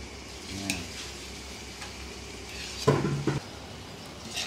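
Ground pork and potatoes are sautéed in a pan, giving a soft, steady sizzle. A few brief scrapes and clanks of a utensil against the pan break through, with one louder stirring clatter near the middle.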